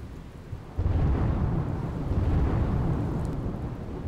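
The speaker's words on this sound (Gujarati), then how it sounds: "અરવલ્લી જિલ્લાના વિવિધ વિસ્તારોમાં ધોધમાર વરસાદ." Heavy downpour across Aravalli district: a steady, dense roar of rain that swells in loudness after the first moment and holds constant, with no voices.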